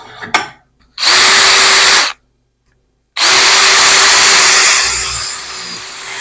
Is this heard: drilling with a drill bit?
yes